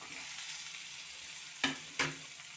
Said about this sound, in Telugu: ఇదిగోండి, బీరకాయలు వేపుకోవాలండి.